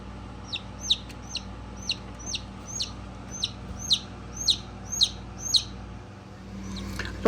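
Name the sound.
newly hatched Polish chick chirping in incubator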